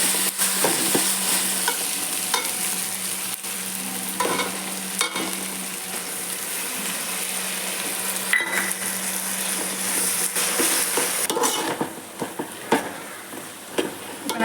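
Ginger garlic paste frying with onions in a pan for chicken biryani, a steady close sizzle with intermittent scraping and clinks of stirring, no talking.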